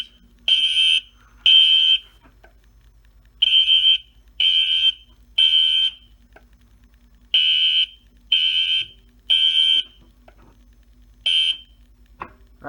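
A fire alarm system sounds during a wall test, giving loud, piercing electronic tones in short bursts, grouped in twos and threes with brief silences between, over a faint background hum.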